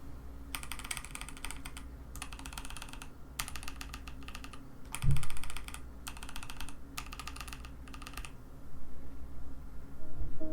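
Bursts of typing on a KBD67 Lite R2 custom mechanical keyboard fitted with PBT double-shot cherry-profile keycaps, several fast runs of keystrokes separated by short pauses, close and clear with no talking.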